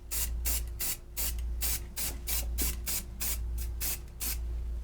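A spray paint can hisses in about a dozen short, evenly spaced bursts over a freehand-carved wooden sign outdoors, close and crisp above a low steady hum, with no talking.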